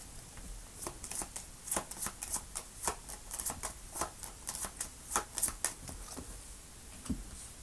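A tarot deck shuffled by hand before a reading, soft riffling bursts and card flicks in an irregular rhythm, close but quiet in a calm room, with no talking.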